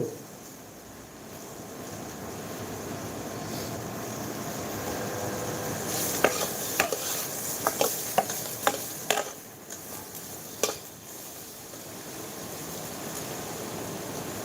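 Food being stirred and sizzling in a pan in a home kitchen, a steady frying hiss with a run of sharp utensil clicks and scrapes against the pan midway.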